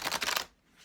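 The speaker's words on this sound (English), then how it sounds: "I'm shuffling live on camera" A deck of cards is shuffled live by hand, a quick close riffle of about half a second made of rapid fluttering snaps, then a near-silent pause.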